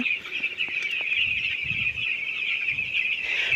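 Broiler chickens in a village shed during hot summer weather cluck and chirp continuously at moderate volume, a dense overlapping chatter of many birds with no talk.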